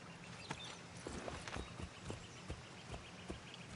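Regular clip-clop of a horse's hooves walking at an even pace in Assassin's Creed 3 Remastered, over a steady background hiss, moderately close, with no one talking.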